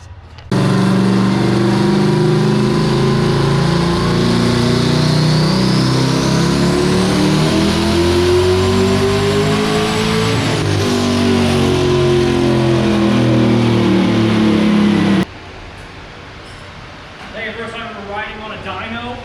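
A car engine roars steadily at high revs for about fifteen seconds with rising and falling pitch, then cuts off abruptly, leaving quieter background noise.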